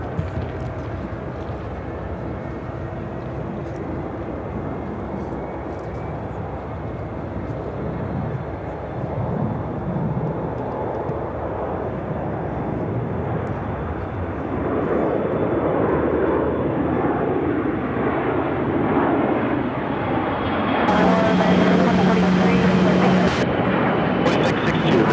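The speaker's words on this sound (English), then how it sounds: "This is a Bombardier Global 6000 taking off." A Bombardier Global 6000 business jet takes off at Chicago O'Hare, its engine roar building steadily from a distant whine to a louder, fuller rush over about twenty-five seconds, with talk in the background.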